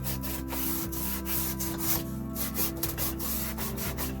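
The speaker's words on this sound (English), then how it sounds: "I'm going to try to sand the whole thing just a little" Sandpaper rubs over dried spackle on a Dollar Tree wood plaque, a close scratchy back-and-forth scraping in quick repeated strokes, with no talk.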